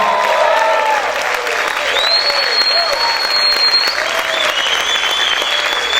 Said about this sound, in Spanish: Vamos a gritar y aplaudir fuerte al Señor